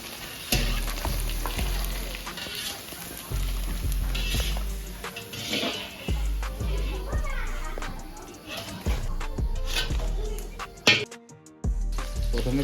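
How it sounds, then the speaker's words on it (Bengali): Papad frying in hot oil in a home kitchen, sizzling and crackling steadily throughout, with stirring clatter, someone talking over it and children's voices in the background. "সবার প্রথমে এখানে পাঁপড় ভাজা হবে"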